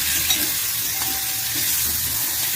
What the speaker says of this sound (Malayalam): ഈ ചെമ്മീനിൽ മസാല മുഴുവനും പിടിച്ചിട്ട രീതിയിൽ തന്നെ നല്ലതുപോലെ തന്നെ വഴറ്റി കൊടുക്കാം